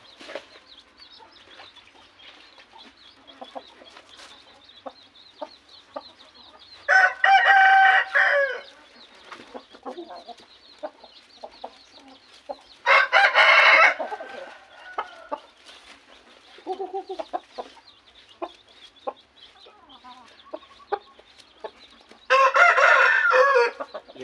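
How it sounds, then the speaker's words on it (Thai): A rooster crows loudly three times, spaced several seconds apart, with softer hen clucking and farmyard chatter filling the gaps between crows. "ไก่สมบูรณ์เลยทุกตัว"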